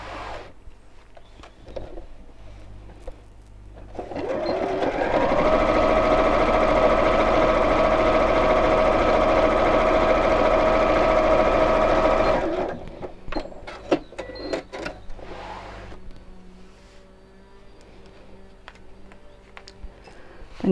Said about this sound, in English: I'm just going to sew about 4 or 5 inches just around the bottom.